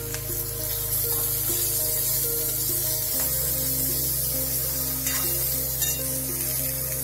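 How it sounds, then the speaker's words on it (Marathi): Onion and tomato sautéing in a pan over a medium flame for chutney give a steady, close sizzle with stirring scrapes, loud and continuous throughout and with no talk over it. "त्यामध्येच आता कांदा आणि टोमॅटो छान परतून घ्यायचा आहे आपल्याला."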